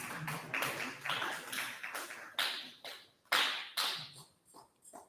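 At a student welcome ceremony, a handful of people give a student a few scattered, irregular claps, faint and sparse rather than a full round.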